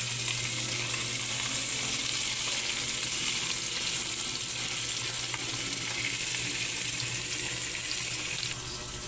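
Ground meat frying in a pan while making batchoy, a steady loud sizzle that holds for the whole stretch, with no one talking.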